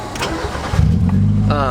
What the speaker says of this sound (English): Let me start my car first.